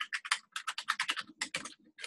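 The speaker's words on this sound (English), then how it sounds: "Is somebody typing something?" Rapid, close computer keyboard typing in irregular bursts of crisp clicks with short pauses, picked up on an open microphone during an online meeting, no talking.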